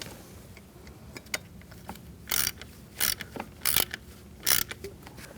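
A socket wrench ratchets while starting a thermostat housing bolt on a 2008-2014 Mercedes-Benz C300 3.0, giving short clicking runs of the ratchet pawl in several quick bursts, close by and fairly quiet against low background noise.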